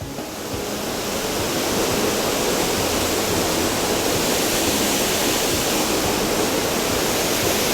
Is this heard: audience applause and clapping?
no